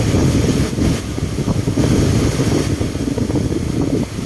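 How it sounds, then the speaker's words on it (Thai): Strong wind roars across the Mekong riverbank in northern Laos, buffeting the microphone with a loud, continuous rumble that stays dense and steady throughout, with no talking. "อ้อลมแรงขนาด"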